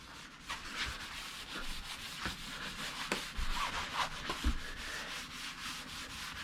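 A green abrasive pad scrubs the metal part of an oven door in quick rhythmic rubbing strokes. The scratchy sound is close but quiet, and no one speaks.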